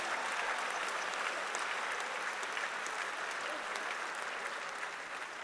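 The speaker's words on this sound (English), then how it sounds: "Give God a hand clap." An audience at a school event applauds with sustained, dense hand clapping that stays loud and even for the whole stretch, the room full of clapping and no speech over it.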